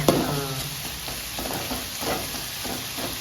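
Large onions sizzle and fry in a pan for a chicken gravy in a bachelor-room kitchen, a steady close crackle with soft stirring scrapes throughout.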